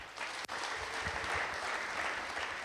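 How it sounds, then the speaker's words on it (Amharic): A church congregation at an Ethiopian worship service breaks into sustained applause, a dense steady wash of many hands clapping for a few seconds with a brief dip near the start. "እስቲ አጨብጭቡ አንዴ።"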